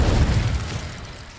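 A spell explosion from the Hogwarts Legacy video game: a loud, boomy burst that rings out at the start and decays over about a second, with a low rumbling tail and no talking.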